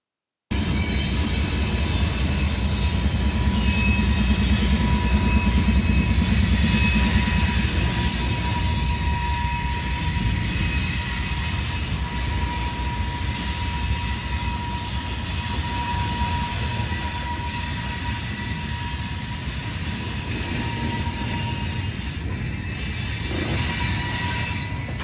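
Freight train hauling steel slab loads in Ohio passes close by, with a continuous heavy rumble of rolling cars and high, steady wheel squeal throughout, no talk.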